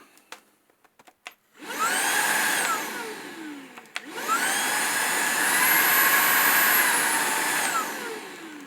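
A vacuum cleaner with a repaired aluminium support runs loudly in two long bursts, starting up around two seconds in, briefly cutting out, then whining steadily again at close range, with a few faint knocks before it starts.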